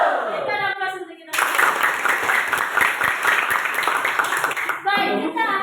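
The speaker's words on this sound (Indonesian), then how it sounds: "Berikan aplaus untuk kita." A classroom of students bursts into loud, dense applause lasting about four seconds, framed by a teacher speaking before and after.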